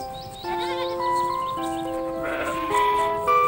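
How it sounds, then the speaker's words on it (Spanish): Several sheep bleat in succession, clear, wavering calls that overlap one another and carry over a steady background, with no talk. "Se dio cuenta de que el buen pastor conoce a todas sus ovejas y de que las ovejas conocen a"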